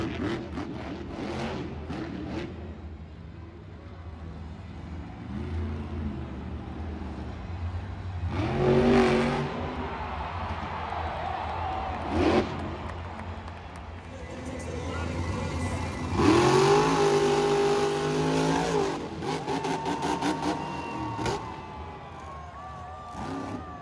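A 12,000-pound orange monster truck's engine roars and revs through a 30-foot high-flying backflip, with repeated loud surges rising in pitch amid crowd and arena noise and a voice talking over parts of it.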